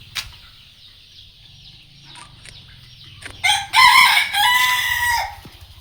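Brahma chickens on a farm with a rooster crowing loudly and close in the second half, after soft clucking and low farmyard background.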